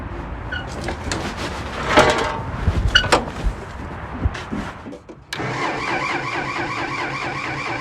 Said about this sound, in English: Now it's running out of fuel.